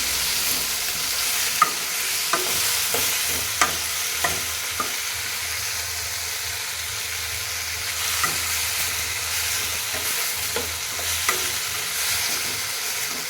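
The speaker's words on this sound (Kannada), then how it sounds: "ಆಮೇಲೆ ಒಂದು ಫ್ರೈಯನ್ನು ನೀವು ಮಾಡ್ಕೊಳ್ಳಿ" Fenugreek leaves with mixed vegetables, ridge gourd and peas, fry in a pan with a steady sizzle while a spatula stirs, giving sharp scraping knocks at irregular intervals, close and clear with no talking.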